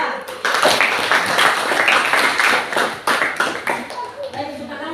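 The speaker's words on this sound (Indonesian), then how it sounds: "kita kasih aplaus untuk kelompok 2" A classroom group claps for a presenting student team at a university session, with steady, close applause lasting several seconds and voices mixed in.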